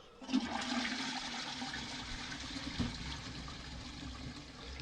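A household toilet is flushed during a hunt for a leaking waste pipe, giving a steady rushing gush of water that runs for several seconds at moderate level with no talking.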